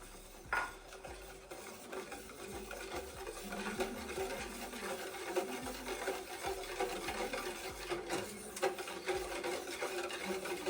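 Cold cocoa chocolate drink mixture is stirred in a pan, making a faint, continuous swishing and scraping at low volume with no one speaking.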